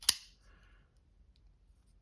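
A single crisp click from a Sharknivko Waka 3.4 frame lock folding knife, a short sharp snap of the blade action followed by near silence with a faint metallic rustle.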